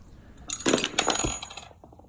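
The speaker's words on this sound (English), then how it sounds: "you can see all the stuff kind of fell out, these little hard things" Small hard parts tumble and clatter out of a vintage mountain bike hub onto a hard surface, a close burst of jingling metallic rattles that trails off into a few light clicks.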